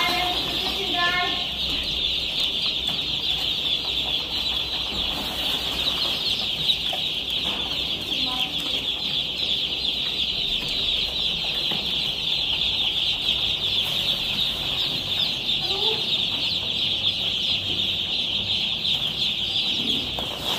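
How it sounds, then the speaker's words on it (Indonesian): Chickens on a poultry farm raising birds, cluck and chatter steadily at close range over a constant high-pitched hiss, with occasional flutters and a few voices talking in the background. "ini ayam percobaan"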